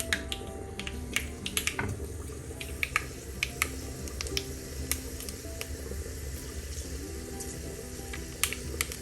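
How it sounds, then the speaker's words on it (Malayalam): Mustard seeds crackle in hot oil for a Kerala-style prawn, mango and drumstick curry, with sharp irregular pops scattered over a soft sizzle, close and alone. "ഒരു ശകലം കടുകിട്ട് പൊട്ടിക്കുക."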